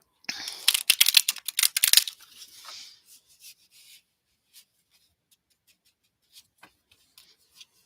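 A brisk burst of crisp riffling and flicking as tarot cards are shuffled, followed by a few scattered soft taps and rustles in near silence.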